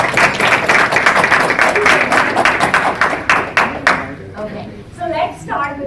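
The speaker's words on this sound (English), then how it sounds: "I want to hear a round of applause." An audience at a women's event applauds a gift presentation, close, uneven clapping with distinct hand smacks that thins out and tapers off, with voices talking in the clip.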